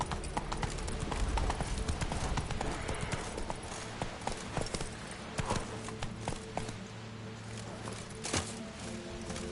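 Roach, a horse in The Witcher 3, galloping with rapid rhythmic hoofbeats across ground, steady and fairly close, with game ambience and faint voices underneath.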